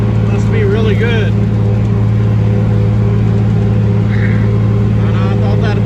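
A tractor engine runs at a steady, loud, droning idle throughout, a constant low hum close by while a person talks over it.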